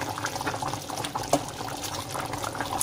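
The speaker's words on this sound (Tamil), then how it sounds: "நல்லா குழம்பு வந்து நல்லா கொதிக்க ஆரம்பிச்சிருச்சு." Thick chicken curry bubbles and simmers steadily in a pan, a soft continuous gurgle with occasional pops.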